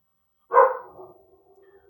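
A dog gives one short, sharp bark, fairly close and moderate in volume, followed by a brief fading whimpering tail, alone in a quiet room.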